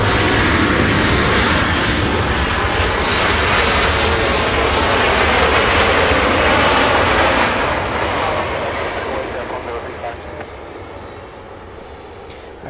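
A Boeing 737-700 jet, nineteen years old, roars loudly as it arrives at Los Angeles International Airport, the broad engine noise holding steady and then slowly fading as the aircraft moves away.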